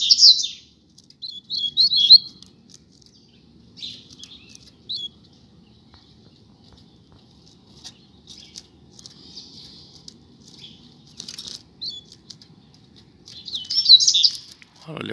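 A pair of Coleiro seedeaters (Sporophila) on a street give bursts of high, rapid chirping song in scattered phrases, loudest at the start and end, with quiet low rumble between.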